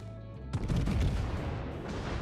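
Naval gunfire from a warship in World of Warships, a sudden heavy boom after a quiet lead-in, followed by a sustained rumbling roar and scattered blasts that stay loud to the end.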